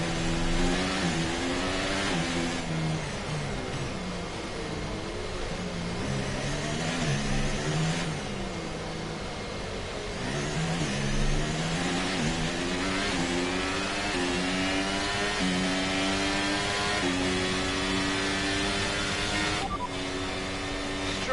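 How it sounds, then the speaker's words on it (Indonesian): Red Bull Formula 1 car engine in the F1 23 racing game at Miami, a loud continuous whine that climbs and drops in pitch through repeated shifts and revs, with other engine tones layered over it for over twenty seconds. "kencang itu ya mobil Red Bull"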